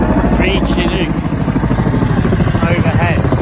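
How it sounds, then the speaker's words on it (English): Three Chinook helicopters fly overhead at a cricket ground near Odiham and Greywell, a loud steady rotor drone and engine roar that fills the whole clip, with people talking over it. "And there go the Chinooks, tailing off into the distance."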